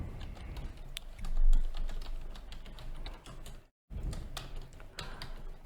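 Rapid clicking keystrokes on a computer keyboard while C# code is written for a grade calculator app, steady and close, with a brief silent gap near the end before typing resumes.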